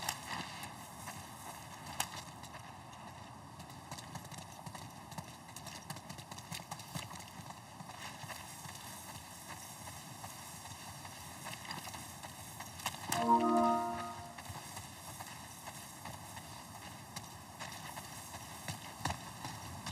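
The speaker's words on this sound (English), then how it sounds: "Get on the horse." Horse hooves clip-clop in a video game on a PS5 Pro, a steady soft rhythm of footfalls beneath constant game ambience, with a brief brighter burst of sound midway.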